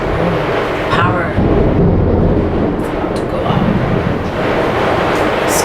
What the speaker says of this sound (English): Sorry for the rain and all the noise.